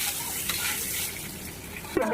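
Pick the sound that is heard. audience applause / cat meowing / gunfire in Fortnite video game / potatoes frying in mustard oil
potatoes frying in mustard oil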